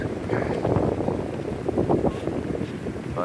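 Strong wind gusting along a stormy seafront promenade at Konyaalti, Antalya, as a continuous loud roar buffeting the microphone, with no talk over it.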